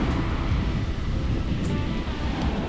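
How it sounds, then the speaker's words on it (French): A continuous rush of small waves breaking on a sand beach in Chandler, Gaspé, with low rumbling and steady hiss, loud and close with no voices. "le bruit des vagues qui viennent mourir sur le sable"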